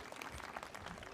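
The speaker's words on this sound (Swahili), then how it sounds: "makofi mazuri" Audience applause at a memorial celebration for an archbishop, a faint, dense patter of clapping filling the whole short stretch.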